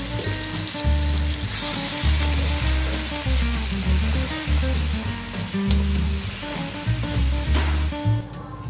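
Ground spice paste sizzles loudly in a wok with toasted coconut, a steady close frying hiss with rhythmic stirring scrapes repeating about once a second.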